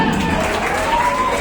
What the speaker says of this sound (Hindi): थोड़ी जबरदस्त तालियां,